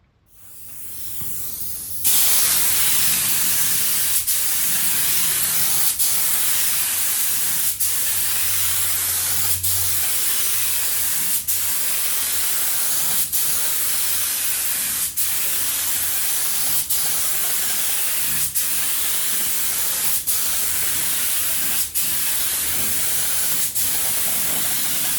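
A spray can of ProTech coats freshly painted motorcycle-style parts, giving a loud continuous hiss held close for over twenty seconds, broken by brief regular clicks or pauses, with no talk.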